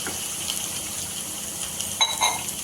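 A glass of water poured into a pan of hot oil with dried red chillies for a tamarind soup, giving a low hiss and sizzle with a louder splash near the end.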